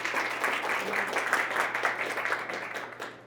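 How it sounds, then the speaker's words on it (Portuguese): Applause from a seminar audience after a speaker at a youth and environmental sustainability panel, fairly faint and a little distant, with a steady low hum beneath the clapping as it slowly fades. "Palmas para Tiane"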